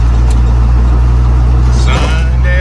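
Loud cabin interior of a 1970 Chevelle while driving, with a heavy low engine rumble and road drone filling the space steadily, a brief louder swell near the end, and a voice speaking over it.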